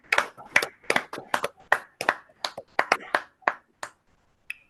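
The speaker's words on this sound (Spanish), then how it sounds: "demos un fuerte aplauso a nuestro expositor por esta charla tan bonita, tan interesante" Online audience clapping for a speaker after a talk on game theory in Formula 1, a sparse run of separate, close claps and snaps from a few participants that thins out and stops.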